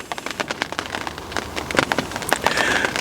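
Rain pattering steadily on a surface beside a carp fishing lake during a wet British summer, a dense close crackle of drops with no talk.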